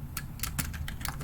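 Fingers tap out a short burst of keystrokes on a computer keyboard, about eight clicks in quick, uneven rhythm, close and fairly quiet, with no voice.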